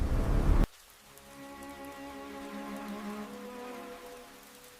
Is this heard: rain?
yes